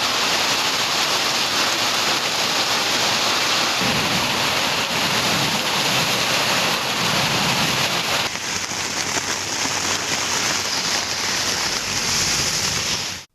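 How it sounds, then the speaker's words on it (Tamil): A heavy downpour in Tamil Nadu pours steadily for the whole stretch as a loud, dense, continuous hiss of rain with no distinct thunderclap standing out and no voices. "இடி மின்னலுடன் கூடிய கனமழை கொட்டியது"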